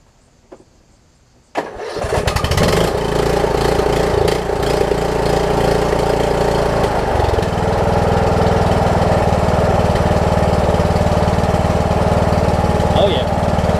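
Craftsman T2200 riding mower engine cranks briefly after a quiet start, catches and settles into a loud, steady running drone close by, with no talk over it.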